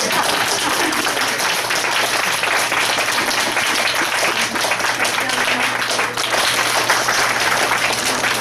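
Audience applause at a live concert for a local history museum's 40th anniversary, a dense, steady wash of clapping from a crowd that holds for several seconds with a brief dip near the end.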